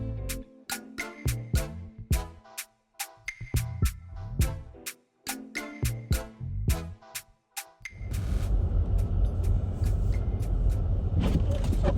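Cars crawl through slow traffic on a snowy road in a snowstorm, heard from inside a moving vehicle. A steady engine and road rumble runs beneath a rapid series of sharp ticking clicks, and a denser noisy wash takes over later.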